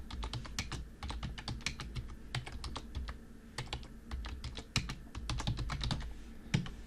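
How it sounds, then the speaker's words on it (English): Rapid, steady typing on a computer keyboard while entering a menu title in desktop software, many close crisp key clicks in quick irregular runs with no talk. "type in a menu title"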